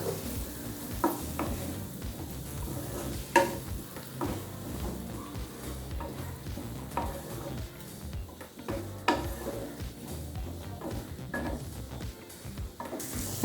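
Potato and boiled peas are stirred together in a pan for lemon rice, with repeated spoon scrapes and knocks over a soft, steady sizzle, close up and with no talking.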